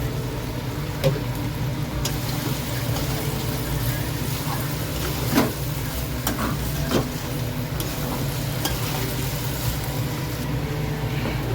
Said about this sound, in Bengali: সোয়া সস, ভিনিগার আর গোলমরিচের গুঁড়ো দিয়েছি, দিয়ে ভালো করে নাড়িয়ে নেবো